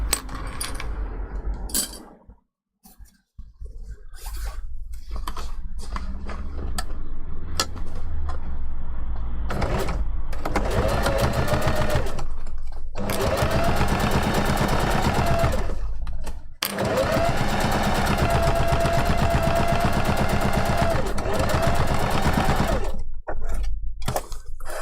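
A sewing machine stitches a fursuit kitsune fox tail in long continuous motor runs with a rapid needle rhythm, pausing briefly between bursts, close and loud, with no talking.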